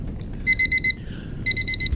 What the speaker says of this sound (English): Sorry, John, that was just my alarm clock.